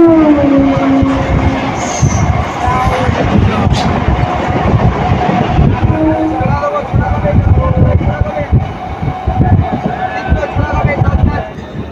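A Howrah–Barddhaman main line local train rumbles steadily with rattling wheels and carriage clatter, with a brief whistle-like tone early on and passengers talking throughout.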